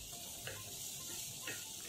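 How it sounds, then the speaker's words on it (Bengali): Potato and vegetable curry frying in a pan with salt, turmeric and spices, giving a steady low sizzle with soft scrapes of stirring, a couple of brief clatters, close and fairly quiet. "এইভাবে 2 মিনিট মতো একটু ভাজা ভাজা করে নেব"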